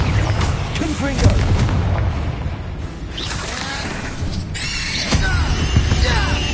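Confringo fire spell explosions in the video game Hogwarts Legacy, loud booming blasts over dense game noise, with a voice heard among them.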